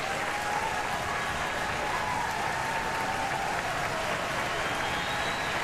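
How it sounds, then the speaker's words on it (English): A baseball crowd at a Rice versus LSU college game cheers and applauds steadily, a dense wash of clapping and voices holding at an even level throughout without a break. "Crowd vocal already."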